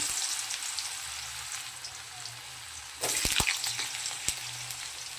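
Diced potatoes tossed into hot oil in a pan with a bay leaf and whole cumin, a steady sizzle that surges as they go in, with a few sharp scrapes and clatters.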